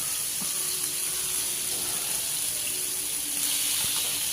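Seer fish (vanjiram) coated in masala frying in a pan, giving a steady, close sizzling hiss with a bright high crackle that holds evenly throughout, with no talking.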